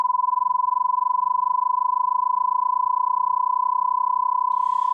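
A steady synthetic electronic tone, frequency-modulated at 20 hertz so that sidebands form, sounds loud and unbroken with a fast fluttering pulse to it, alone without speech.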